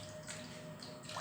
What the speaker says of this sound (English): Now I will put little bit of water,